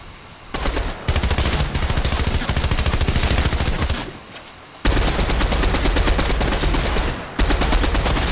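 Rapid automatic gunfire from the player in a video game, long loud bursts of close shots separated by short pauses.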